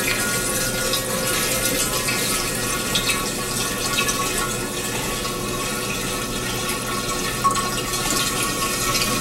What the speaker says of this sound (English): After I put the first gallon of water in